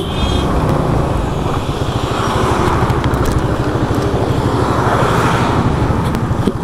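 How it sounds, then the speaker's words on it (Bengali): An army vehicle rolls past on a road, its engine producing a loud, continuous roar that holds steady and close throughout. "আর্মিদের গাড়ি।"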